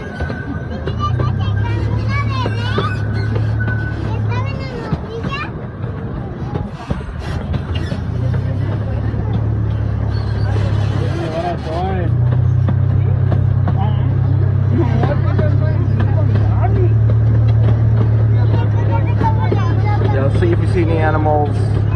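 A replica steam engine zoo train at the Oakland Zoo, heard from the second car, gives a steady low rumble and rolling rattle throughout, with a voice talking over it.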